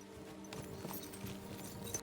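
Horse hooves clip-clopping in the video game Kingdom Come: Deliverance 2, a quiet, steady trot of light hoofbeats over a low background hum.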